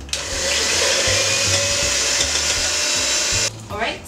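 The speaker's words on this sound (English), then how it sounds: "now we will whisk them to stiff peaks" Electric hand beaters whisk egg whites with lemon juice, a loud, steady motor whir with rattling against the bowl that runs for several seconds, then cuts off abruptly.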